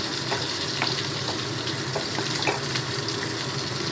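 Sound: stirring potol peel paste in a kadai

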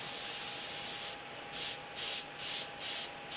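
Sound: airbrush spraying paint

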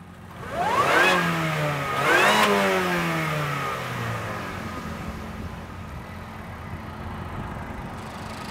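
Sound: supercharged Mazda car engine revving

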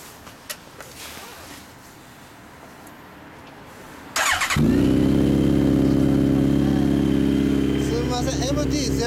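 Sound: motorcycle engine

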